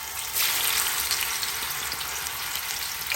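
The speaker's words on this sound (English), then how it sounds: "Now we just add the fish to the oil." Catfish frying in hot oil in a pot: a steady, loud, close hiss and crackle of sizzling that swells as the fish goes in and holds evenly throughout, with no voices.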